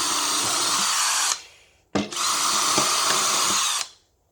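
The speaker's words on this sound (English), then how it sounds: "let me pre-drill some holes." A cordless power drill pre-drills screw holes, whirring loud and close in two steady bursts separated by a brief pause, with no talking.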